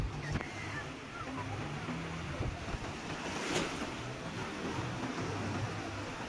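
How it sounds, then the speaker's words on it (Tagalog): Sea waves wash onto the beach at Vieste with steady broadband surf and wind noise, fairly faint and continuous, with occasional voices in the background. "lumakas na rin po ang alon"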